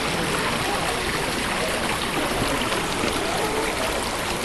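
A babbling brook runs steadily outdoors, a dense continuous rush and trickle of moving water with no pauses, close and fairly loud.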